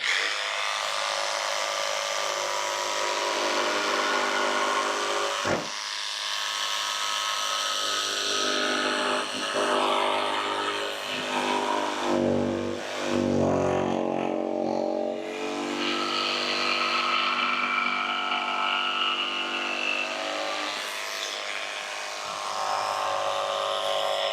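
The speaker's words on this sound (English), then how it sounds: "Now I'm just going to use a jigsaw. I like these Lennox fine soft wood blades." A jigsaw fitted with a Lenox fine soft wood blade cuts a notch in barnwood shiplap, a loud sustained buzzing whine running nearly nonstop for over twenty seconds with a brief dip partway through.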